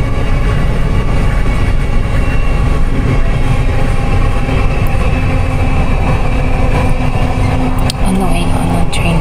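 Passenger train riding along the rails, a constant loud rumble and rattle of the carriage heard from inside, with a brief clunk near the end.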